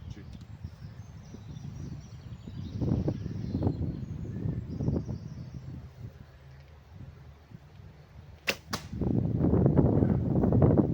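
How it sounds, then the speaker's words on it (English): A MujinGung Korean bow with lignum vitae shooting arrows: two sharp, quick snaps close together near the end, over a steady rumble of wind and outdoor background. "let's try shooting again with the Lignum Vitae MJG."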